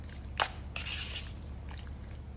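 Chicken marinade with yogurt being mixed in a bowl in a home kitchen: a couple of soft clinks and scrapes of a utensil against the bowl over quiet background hum.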